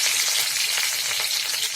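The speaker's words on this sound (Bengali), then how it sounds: "এখন আমি ফার্স্টে পেঁয়াজ আর মরিচটা ভেজে" Onion and chili fry in hot oil for a vegetable roll recipe, a close, bright, continuous sizzle with no voices.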